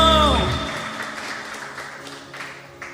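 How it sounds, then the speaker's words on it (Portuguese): A church congregation claps during a Portuguese-language baptism service, scattered applause rising after a fading musical chord and continuing as irregular hand claps at moderate volume. "Aplauda esse amor de Jesus aí, meu irmão"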